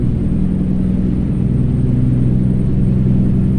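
Freightliner Coronado SD truck in American Truck Simulator cruising on an Iowa road, a loud, smooth, steady low engine rumble drones throughout without talk.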